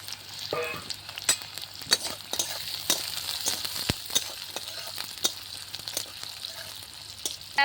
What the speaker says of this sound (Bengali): আমি তেলে ভেজে নেব কুচনো পেঁয়াজ, নেব কুচনো আদা